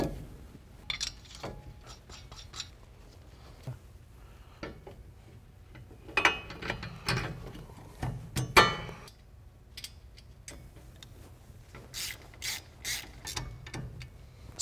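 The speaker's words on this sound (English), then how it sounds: "Reinstall your rotor and secure it with the lug nuts." A ratchet tightens lug nuts on a Jeep Wrangler brake rotor during a Wilwood front disc brake install, its pawl clicking in rapid bursts between pauses, close and clear with no one talking.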